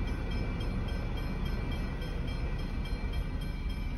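At an Australian railway crossing, a passenger train rolls past with a steady, loud rumbling roar of wheels on track, continuous and unbroken throughout.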